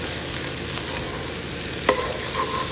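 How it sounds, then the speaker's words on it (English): Shrimp fried rice gets tossed in a hot pan, a continuous loud sizzle with stirring scrapes and a single sharp metallic clink partway through, no voices. "Give everything a toss."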